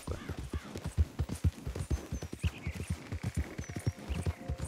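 A horse's hooves clip-clop at a steady walking pace in the video game Red Dead Redemption 2, with evenly spaced, moderately close thuds repeating throughout.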